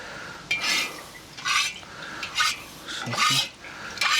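Onion and oil tumbling into a kazan cauldron give bursts of scraping, rustling clatter at irregular intervals, close and moderately loud with no talk.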